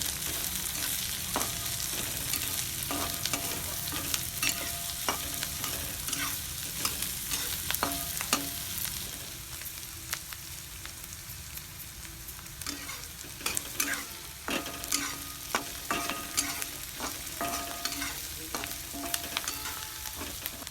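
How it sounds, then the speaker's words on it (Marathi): Onion fries in a pan with cumin, mustard seeds and garlic, a steady close sizzle and hiss carrying on throughout, broken by frequent scraping and clicking stirring strokes that grow busier toward the end. "कांदा बी चांगला फ्राय करून घ्यायचा त्याला"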